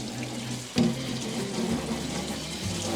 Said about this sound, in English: I just take this over to the bathtub, to the kitchen sink, and I just hose it down and clean it